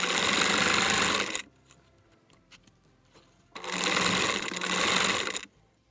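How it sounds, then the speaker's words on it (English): A sewing machine stitches cut fur pieces together for a cosplay chest piece, running in two steady, loud bursts of about a second and a half each, separated by a quiet pause. "stitch them all together"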